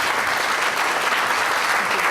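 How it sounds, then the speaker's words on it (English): Audience applause for a presenter at a journalists' talk, dense steady clapping from a room full of people, continuous and fairly loud throughout the short burst. "I think I'll ask you to give her an applause."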